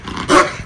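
A dog gives a single short bark, loud and close, in a room where people have just been talking.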